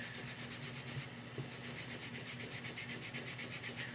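Rapid rhythmic rubbing of a Lionel 1073 transformer part with alcohol gives a soft, fast scrubbing sound, fairly faint and continuous over a low steady hum, with no voices.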